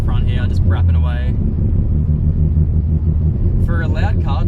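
Mazda FD RX7 RS rotary engine droning steadily while cruising along a waterfront, a low continuous rumble heard from inside the car, with someone talking over it at the start and end.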